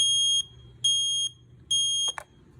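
An i4-618AC smoke alarm gives three shrill, evenly spaced high-pitched beeps in a temporal pattern, followed by a couple of brief clicks, over a quiet low hum.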